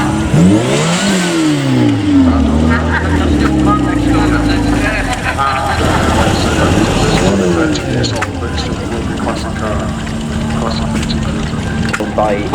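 A 2006 American car with a 2.4-litre engine revs loudly and repeatedly at a vintage rally, its pitch climbing and falling in sweeping waves before settling into a steady drone, with people talking over the noise.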